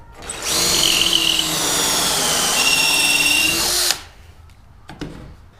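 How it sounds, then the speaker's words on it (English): A power drill runs steadily for several seconds, boring through wood for a wall-hung coat rack close by, then stops abruptly, followed by a couple of small knocks. "And now it's as simple as drilling the hole."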